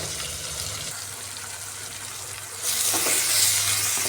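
A medium tomato fries with softened onions in a pan, producing a steady sizzle that jumps sharply louder and brighter partway through as the pan is stirred, then stays intense.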